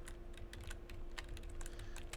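A computer keyboard is typed on in quick, irregular clicks, close and fairly faint over a low steady hum, with no talking.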